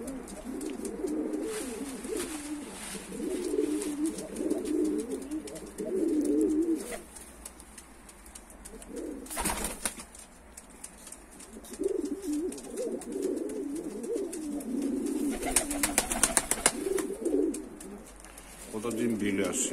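Rock pigeons in a Tbilisi, Georgia loft give repeated low, throaty coos in bursts, close and fairly loud, with someone talking between calls and a few sharp flutters or knocks.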